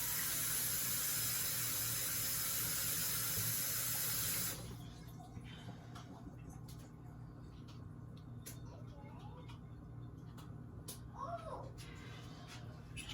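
Vegetables rinsed under a running kitchen tap: a loud, steady rush of water for about four seconds, then the flow stops, leaving quiet room sounds with faint voices.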